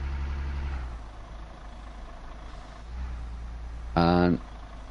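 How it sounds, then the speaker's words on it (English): A truck engine from the Truck Driver game rumbles as a low steady drone that drops and then swells again, followed by a short loud horn blast near the end. Faint background noise sits under it. "And it does sound like a truck."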